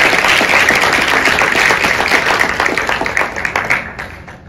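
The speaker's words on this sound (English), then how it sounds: "let's give them another round of applause for this" Loud audience applause for judges at a high school business plan competition, a dense burst of many hands clapping that holds steady and then fades toward the end.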